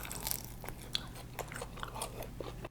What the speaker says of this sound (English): One more time for the bite so you can hear that crispiness.